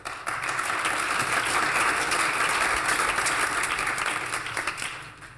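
A crowd at an open public forum on the environment in Phoenix, Arizona, breaks into steady applause, dense clapping holding level for several seconds before tapering slightly at the end, with no voices over it.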